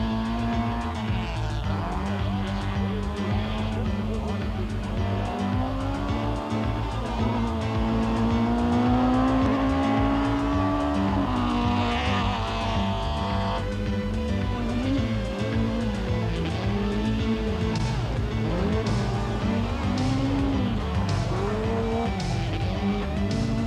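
A rally car races hard through the corners of a rallysprint course, its engine loud and close, rising and falling with each gear change as it brakes and accelerates continuously.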